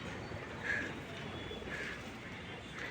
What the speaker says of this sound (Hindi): देखिए, ये देखिए कबूतर उड़ रहे हैं जगह जगह।